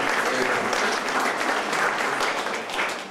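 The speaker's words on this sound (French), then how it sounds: "Vous pouvez l'applaudir aussi" Sustained audience applause at an art exhibition event, a dense steady wash of clapping from a crowd that holds loud throughout and eases slightly at the end.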